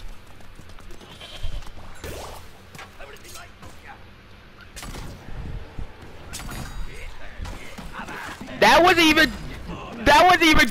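Goat bleating in the Plants vs. Zombies video game: a couple of loud wavering bleats near the end, after softer game noises and thuds, with people talking throughout.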